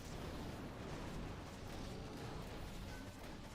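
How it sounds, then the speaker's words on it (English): Cannon being destroyed in a Clash of Clans match, heard as a dense, continuous rumble of game explosions and crashing debris, loud and steady with no clear gaps. "Ricochet cannon being destroyed."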